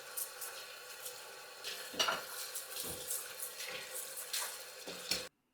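Cucumbers being rinsed and rubbed under running tap water in a kitchen, with steady splashing and intermittent knocks and rubbing sounds, close by and without talking, ending abruptly.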